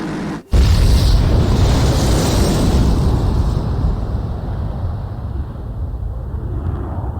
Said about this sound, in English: Mass driver hit by cruise missile.